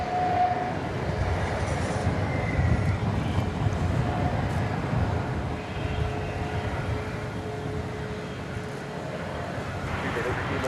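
A Boeing 787 Dreamliner departs at night from DFW Airport toward Sao Paulo, a distant continuous engine rumble and roar with a faint steady tone, no voices.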